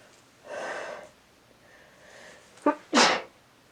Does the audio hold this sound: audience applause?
no